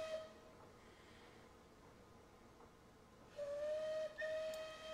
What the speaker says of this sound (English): I want a different whistle.